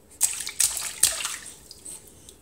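Three quick, close splashes come from a child slapping water in a home bathtub, then sloshing and dripping fade out.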